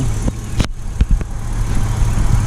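A vintage flathead forklift engine runs at a steady low idle close by, with a few sharp knocks and clicks breaking through the hum.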